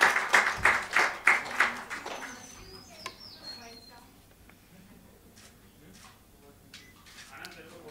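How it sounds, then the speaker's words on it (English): Audience applause for a motorcycle racer at a racer introduction event, a brief burst of rhythmic clapping that fades within about two seconds, followed by quieter room sounds and scattered faint noises. "A round of applause, ladies and gentlemen."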